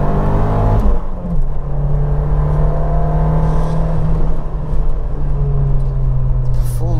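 A four-wheel-drive Ford Escort Cosworth is driven on a drying road, its engine droning loud and steady from inside the cabin with a gear change near the start and a constant low rumble.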